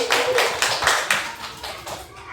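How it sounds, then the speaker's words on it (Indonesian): An audience at a school teachers' session claps about eight times in a steady rhythm. The claps are moderately loud and close, and fade slightly toward the end. "Tepuk tangannya dong."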